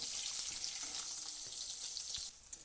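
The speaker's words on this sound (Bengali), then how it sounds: "আবার অপর পিঠটাও একইভাবে ভেজে নেব।" Egg and cauliflower fritters frying in a pan of oil make a soft, steady sizzle with faint crackles and small spatters, close but quiet, with no voices.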